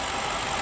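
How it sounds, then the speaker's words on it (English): A BMW 7 Series E65 V8 engine runs steadily with a smooth, continuous hum, close and unbroken. "Engine is running smooth."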